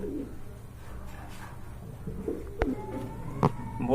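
Andalusian pigeons at a pigeon sale give a few soft, low coos close by, over a murmuring background with a couple of sharp knocks; no talk.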